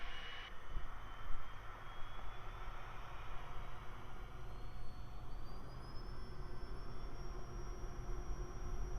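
A Cirrus SF50 Vision Jet at full takeoff power fills the cabin with a steady, broad roar and a high whine that climbs slowly in pitch as the jet accelerates down the runway, with no one talking.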